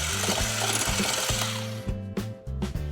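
An electric mixer beats softened butter, sugar and oil in a bowl, a loud close continuous whir with rhythmic knocking and scraping against the bowl.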